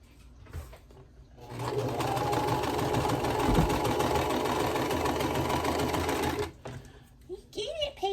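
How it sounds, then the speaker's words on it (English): A sewing machine stitches fabric right sides together down the middle of a half square triangle quilt block, producing a steady, close mechanical whirr for several seconds, with brief talking before and after. "So just right sides together and sew right down the middle."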